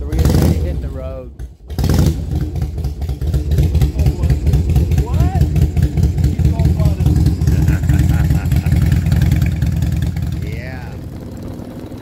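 A motorcycle engine idles steadily and loud throughout, a brief dip near the start, with people talking over it as the rider prepares to hit the road on a cross-country trip.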